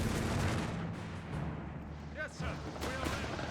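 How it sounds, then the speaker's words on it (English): Cannon fire from a 700 gun in the Company of Heroes 3 strategy game, heavy booming blasts rolling under battle noise, with quieter spoken commentary running alongside. "Stummel joining in here with the 700 cannon."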